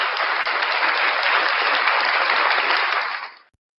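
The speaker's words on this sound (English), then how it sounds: "Round of applause for Blackheart Night." An audience breaks into sustained, even applause, a dense wash of many hands clapping close by for about three and a half seconds before cutting off abruptly.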